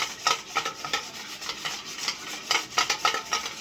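Two eggs are beaten briskly in a bowl for an oats cake batter, giving quick, light, rhythmic scraping and tapping strokes that are fairly faint and close.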